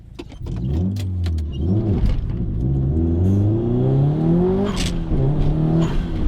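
Modified Subaru Impreza blobeye with a competition clutch, lightweight flywheel and 1000cc injectors, its engine droning steadily and rising in pitch as it accelerates while driving, loud and close throughout with no talk.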